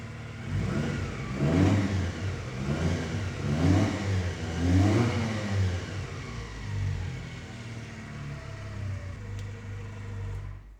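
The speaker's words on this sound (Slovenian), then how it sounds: "Evo, prvi zagon motocikla." A Leonart Pilder 125 motorcycle engine revs up and down in several strong surges on first start, then settles into a lower, steady idle rumble.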